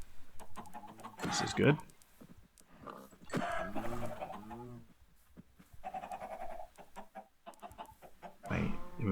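Chickens cluck and squawk in a survival video game, several short bursts close up, mixed with other bleating animal calls and a voice talking in between.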